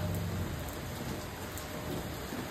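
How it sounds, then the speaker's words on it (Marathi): Rain falls steadily in a continuous, even patter and wash, fairly soft overall, with a low rumbling undertone and no voices. "इथे मस्त पावसाचं वातावरण झालेलं आहे. पाऊस पडतोय बघा."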